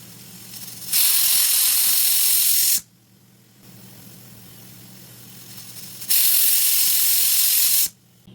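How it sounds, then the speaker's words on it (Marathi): A pressure cooker cooking mutton lets out two long, loud hissing steam whistles, each lasting about two seconds, separated by a quieter stretch of low kitchen hum. "आता आपण या मटणाच्या 5 शिट्या करून घेऊया"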